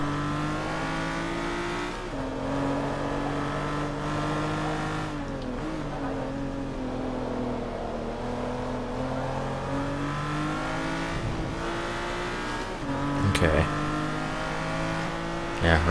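A Lamborghini Reventon's twelve-cylinder engine drones and revs through gear shifts while racing in Forza Motorsport 3, its steady roar broken by brief tire squeals, with someone talking over it.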